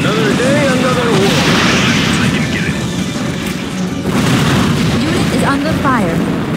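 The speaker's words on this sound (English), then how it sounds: "Stand by for bombing run." Bombing run explosions in the Command & Conquer 3: Tiberium Wars video game, a continuous loud rumble of booms and blasts under battle noise, with voices speaking over the din.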